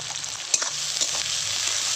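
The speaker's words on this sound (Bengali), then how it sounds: "এবার ভালো করে নেড়ে চেড়ে ভেজে নেব পেঁয়াজ" Chopped onions with black cumin seeds frying in a pan, a continuous close sizzle broken by a few clicks and scrapes from stirring, with no voices.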